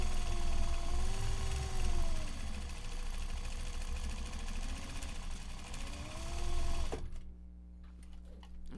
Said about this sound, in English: So we are back stitching the handles here because they are a point of high stress